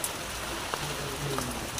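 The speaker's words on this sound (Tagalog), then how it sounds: "Malakas ang ulan." Heavy rain falling steadily on surfaces, a dense hiss of drops with a few faint tonal sounds in the background, brief and fairly quiet overall.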